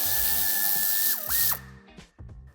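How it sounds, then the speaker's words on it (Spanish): Quick clicking ratchet strokes come from loosening 10 mm screws on the bumper reinforcement of a 2020–2025 Citroën C5 Aircross Hybrid PHEV during a tow hitch install, close and crisp in several short runs with a brief pause. "En la zona central tendremos que quitar 3 tornillos de cabeza de 10."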